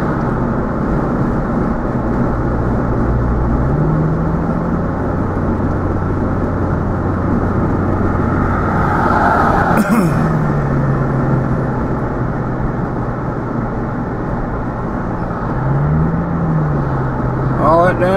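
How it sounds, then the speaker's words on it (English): Steady road traffic roars past near Elizabethtown, Kentucky, a loud continuous wash of car and engine noise, with a heavier vehicle passing around the middle and someone speaking over it. "All that damn traffic."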